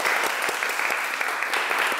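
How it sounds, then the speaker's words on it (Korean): Students applaud two senior architecture students at a university event, a brisk, full round of clapping that stays steady and close for the whole stretch. "앞에 계신 두 선배님들에게 감사의 박수 부탁드릴게요"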